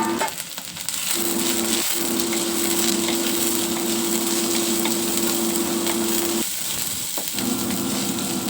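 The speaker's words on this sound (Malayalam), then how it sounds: "ഉള്ളിയിട്ട് വഴറ്റിയിട്ട്" Onions sautéing in hot oil in a pan after mustard seeds have popped. A loud, steady crackling sizzle runs throughout over a faint tonal hum, dipping briefly a few times.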